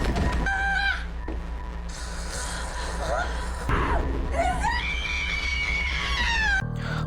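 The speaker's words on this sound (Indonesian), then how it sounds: "langsung berteriak histeris, seakan melihat yang ia takutkan selama ini" A woman screams hysterically in the horror film Smile, letting out loud, shrill, wavering wails one after another over a low, rumbling background.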